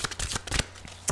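A close, brief burst of hand-shuffled Psychic Tarot Oracle cards gives several soft papery flicks and rustles, ending in a sharper slap, with no speech.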